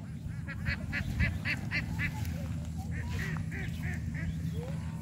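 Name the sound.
ducks on the river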